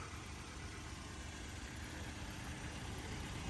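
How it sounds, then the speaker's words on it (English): Direct-injection car engine idling at a dealer auction, a steady low hum with faint, fine tapping from the top of the engine, constant and fairly quiet with no talking. "So direct fuel injection on all of them, they just make like a tapping noise on the top."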